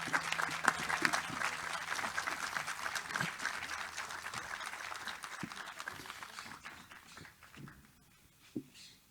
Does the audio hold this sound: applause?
yes